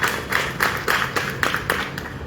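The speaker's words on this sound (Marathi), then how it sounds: "त्याबद्दलही त्यांचा आपण जोरदार टाळ्या वाजवून" An audience claps at a Marathi book launch ceremony, giving a short run of evenly spaced, rhythmic claps that sound fairly close, with no voices over them.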